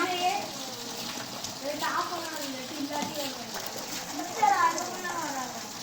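Water gushes and splashes through a drain while a mosque is being cleaned, a steady wash of flow running under several voices talking throughout.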